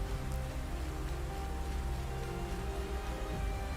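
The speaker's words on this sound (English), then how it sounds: "Oh, got rain." Steady rain in the Sonic Frontiers video game trailer, a continuous even hiss of falling drops with no distinct gaps, moderately loud and alone without talk.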